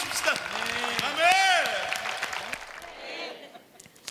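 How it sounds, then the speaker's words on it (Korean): Church congregation applauding, a short burst of clapping under a voice speaking over it, fading out toward the end. "다시 한번 큰 박수와 영광 함께 올려주십시다"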